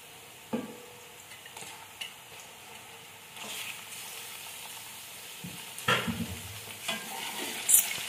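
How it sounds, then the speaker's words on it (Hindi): Chicken pieces frying with golden-browned onions in a pot for biryani, a soft continuous sizzle broken by occasional stirring scrapes and clinks, with no voices. "इसको अच्छी तरह भूनेंगे नाजरीन गोश्त हमारा फ्राई हो चुका है"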